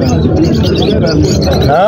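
Birds and pigeons at a Saturday bird market in Temara coo and chirp close by, mixed into a busy crowd, with people talking over them throughout.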